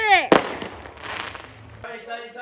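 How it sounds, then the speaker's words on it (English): Fireworks at a New Year celebration, one sharp loud burst followed by a crackling rumble, with excited voices and cheering around it. "The fireworks were absolutely massive."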